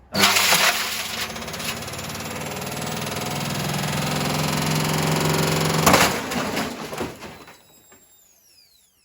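A Hoover H Wash 300 H3W69TME washing machine tears itself apart in a loud, sustained grinding and rattling roar. The noise ends in a crash and then fades into a ringing quiet.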